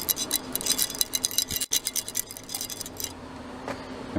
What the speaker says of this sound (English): I'm going to take the water pump and rattle it.